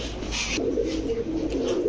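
Racer pigeons in a pigeon shop coo with low, throaty, rolling calls over a steady background hum, close by and continuous.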